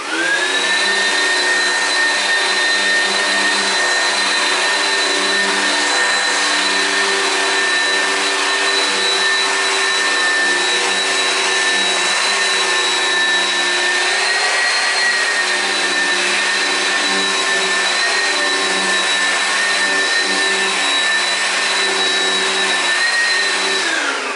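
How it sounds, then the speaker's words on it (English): A vacuum cleaner whines steadily and loudly for a long stretch, its motor pitch wavering slightly as it works over a wool carpet, with no voices. "So now I'm going to vacuum the surface"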